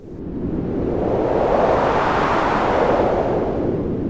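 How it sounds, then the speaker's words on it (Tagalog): Steady wind blows in a broad, rushing whoosh, loud and continuous, swelling slightly and then holding. "Isang mahinang ihip ng hangin ang dumampi sa kanyang pisngi."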